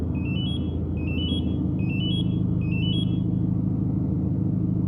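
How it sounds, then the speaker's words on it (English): A 2018 Subaru WRX STI with a manual transmission idles with a steady low rumble after a remote start, while four quick rising electronic chirps repeat in a regular rhythm above it. "In a few seconds, the car will start."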